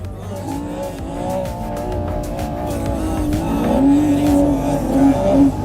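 A drift car held at full throttle through a street-course section in a TOP32 drifting round, engine roaring steadily with rising pitch and tire squeal layered over it, loud and continuous throughout.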